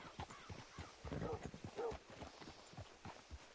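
Horse hooves clopping on the ground in a Western open-world video game, a soft, uneven series of footfalls at moderate distance, with faint background sound.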